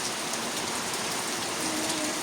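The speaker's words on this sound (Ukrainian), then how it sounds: "Дивіться, який дощ почався." Heavy rain pours down steadily in an evening downpour, a dense even hiss of drops drumming on surfaces, loud and continuous with no voices.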